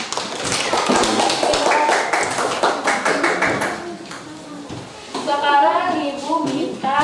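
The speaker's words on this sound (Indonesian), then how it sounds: "Kita beri tepuk tangan kepada Winda" A classroom of students applauds a classmate with quick, scattered claps for a few seconds, then the clapping fades as a person starts talking.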